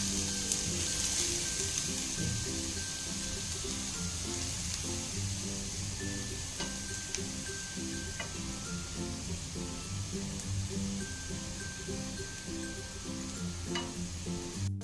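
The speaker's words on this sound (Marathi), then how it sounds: "तर तूप गरम झालेला आहे। आता आपण ह्याच्यात खिसलेला गाजराचा खिस टाकूया।" Grated carrot for carrot halwa lands in hot ghee in a pan and crackles with a dense, continuous sizzle, overlaid by occasional scraping and stirring clinks, close and fairly loud throughout.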